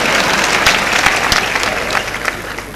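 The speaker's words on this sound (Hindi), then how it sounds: "जोरदार ताली बजाइए" An audience at a Hindi poetry stage show claps loudly for a poet, a short burst of dense applause that tapers slightly toward the end.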